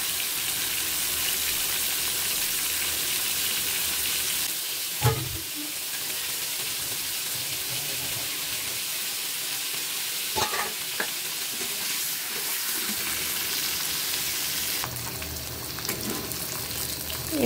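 Hilsa fish head frying until crisp, a continuous oil sizzle with a few sharp stirring knocks and scrapes against the pan, close and steady.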